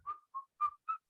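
A person whistles a short phrase of a tune from Snow White, four clear, bright notes in a quick rhythm, close and alone with no talk over it.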